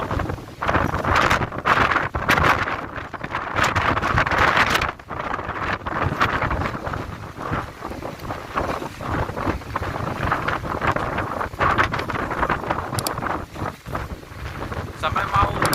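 Strong wind buffets a boat at sea in Taiwan, a constant loud roar with gusty microphone rumble throughout, seawater splashing up onto the vessel.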